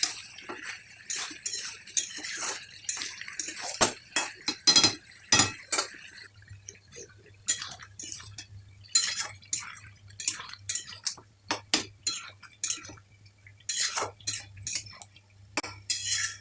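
Mutton masala being sautéed in a pan, giving repeated clinks and scrapes of a utensil against the metal over a soft liquid bubbling, moderately close, with no voices.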